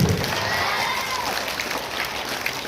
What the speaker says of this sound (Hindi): अब ये ताली इसलिए बजा रहे हैं कि भाषण बहुत हो गया